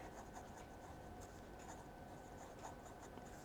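A Diplomat Magnum fountain pen with a medium nib writes on paper, giving a faint, steady scratch with light stroke accents, close and quiet, with no voices.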